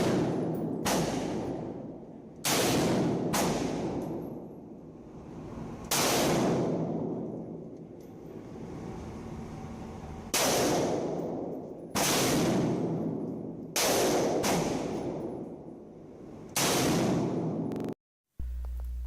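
A Century Arms C308 rifle, a CETME/G3-style clone fitted with a chevron muzzle brake, fires about nine loud, sharp shots at irregular intervals, each one echoing and decaying outdoors.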